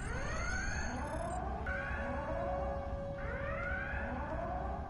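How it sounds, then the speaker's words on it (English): Alarm sirens aboard a starbase in the Star Trek Online video game repeat in rising-and-falling electronic sweeps roughly every second and a half, steady and moderately loud over a constant background hum. "Shut up those alarms."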